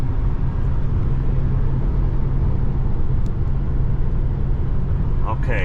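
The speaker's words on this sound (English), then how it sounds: "So I am now driving in my Town Car" A 2007 Lincoln Town Car Signature Limited heard from inside while driving, a steady low engine and road rumble that stays close and even throughout.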